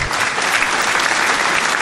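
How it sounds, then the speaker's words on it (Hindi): A comedy game-show audience breaks into loud, continuous applause, a dense wash of many clapping hands that holds steady without a break. "तालियां।"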